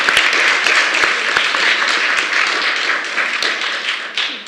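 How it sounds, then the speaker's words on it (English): An audience at a campus climate action event applauds student leaders, a full, close round of clapping with a few sharper individual claps standing out, sustained throughout. "So can we get a round of applause for the student leaders?"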